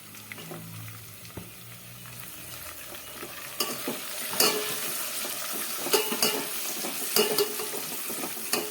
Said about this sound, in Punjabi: ਹੁਣ ਆਪਾਂ ਪਿਆਜ਼ ਭੁੰਨਾਂਗੇ 5 ਮਿੰਟ